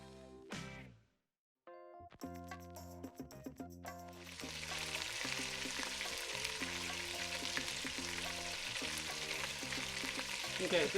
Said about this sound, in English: kind of keep turning until I get a good sear all the way around